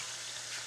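Sugar sizzles in hot cooking oil with a dense, steady crackling hiss, close and continuous throughout the brief moment.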